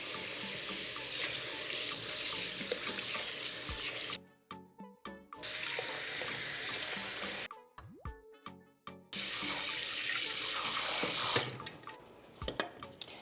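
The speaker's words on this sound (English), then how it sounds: "we have to wash our rice so the water is no longer cloudy." Tap water runs steadily into a bowl of rice, stopping twice for stretches of swishing, dripping and splashing as the rice grains are stirred by hand.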